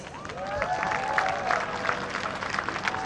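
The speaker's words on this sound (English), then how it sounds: "very big round of applause as we welcome our final group onto the green" Gallery applause as the final group reaches the 18th green in the final round of the 2022 HSBC Women's World Championship golf tournament: a steady crowd clapping, moderately loud, with an announcer's voice over it.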